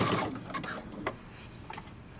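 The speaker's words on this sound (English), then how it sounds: "I'm going to pull slightly as I'm sewing on my elastic." A sewing machine zigzag-stitches elastic onto cropped leggings, its quiet motor hum running under a person talking, with a few light mechanical taps along the way.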